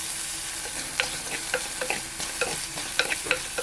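Spoon stirring mackerel fish curry masala with salt in a pan over a slow flame, a steady soft sizzle broken by repeated scraping clicks of the utensil against the metal.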